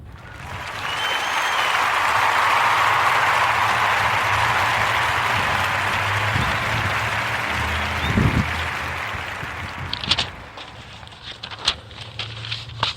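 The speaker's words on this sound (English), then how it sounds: "So join me into giving Brother Mikhail C. Clark a warm Narrative Podcast round of applause" Warm applause from a live audience for a podcast spotlight guest, steady broadband clapping that swells, holds for about ten seconds, then thins into a few scattered claps and shuffling.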